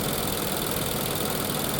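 An Infiniti QX60 engine idles with a misfire from oil consumption, giving a steady, continuous drone with a faint uneven roughness throughout, close and alone with no talking.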